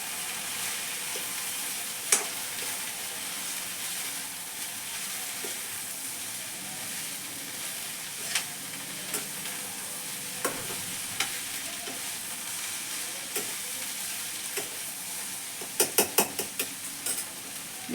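Okra frying in a pan, a steady close sizzle running throughout while a utensil stirs it, with scattered light clinks of metal and a small cluster of taps near the end, no talking.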